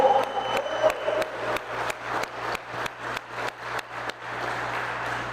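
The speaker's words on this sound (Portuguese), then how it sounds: "Dá uma salva de palmas." Church congregation clapping at the end of a worship service, a run of sharp, fairly even claps over a low hum, with a few early voices fading as the clapping continues alone.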